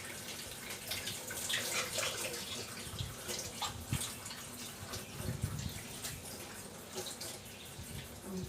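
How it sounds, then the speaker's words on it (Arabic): Water splashes and trickles into a plastic bag in a home kitchen, a close, irregular pouring with small splashes and drips, fairly quiet throughout. "احط بقى شويه ميه صغيرين كده في الكيس عشان خاطر انزل كل الريحه اللي موجوده فيه."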